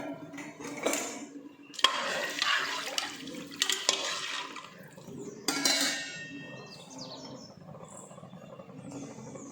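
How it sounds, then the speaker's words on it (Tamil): Water poured into a cooking pot while preparing rice and moong dal, with splashing pours in bursts and clinks of pots and utensils, fairly close and without talk. "இப்போ தண்ணி ஊற்றிக்கலாம்."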